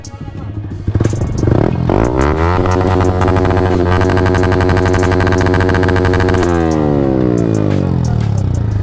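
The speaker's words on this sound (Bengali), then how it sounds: "মোটামুটি কিন্তু শুনে ফেললেন বাইকটার এক্সজস্টের সাউন্ড" A modified Yamaha R15 V3 motorcycle with an aftermarket exhaust revs hard up close: the engine note climbs sharply, holds a loud, raspy high-rev drone for several seconds, then drops back down as the throttle eases.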